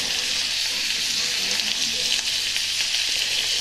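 Tomato puree sizzling in a hot pan for moussaka, a constant loud frying hiss with faint stirring scrapes underneath, no talking.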